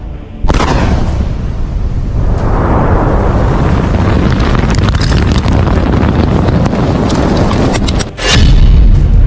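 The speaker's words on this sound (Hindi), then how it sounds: "धमाका नंबर 1" A loud, sustained roaring blast from a missile explosion rumbles on for several seconds with heavy low-end boom, followed by another sharp burst near the end.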